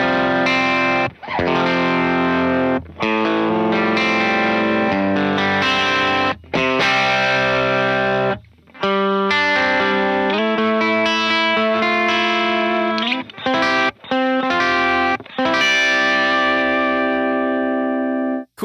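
Electric guitar played through a Benson Preamp pedal, giving a driven, mid-forward tone with sustained chords and single notes in short phrases, loud and close with no talking.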